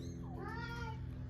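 A cat on a homestead gives a single drawn-out meow, rising and then falling, close by and fairly quiet over a steady low hum.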